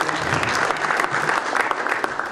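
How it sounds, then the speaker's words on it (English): An audience at a South African Olympic team announcement applauds in a steady patter of many hands, moderately loud, with a faint voice or two mixed in. "A round of applause again."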